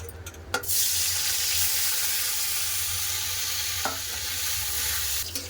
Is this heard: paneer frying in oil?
yes